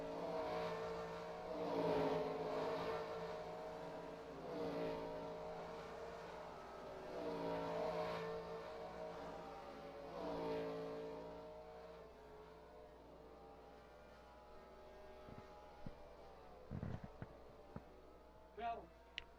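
Race cars in the sim racing game NRSL Coke Vanilla Cup Series at Crunch 275 roar past, engines rising and falling in repeated swells before fading to quieter whirs and small clicks near the end.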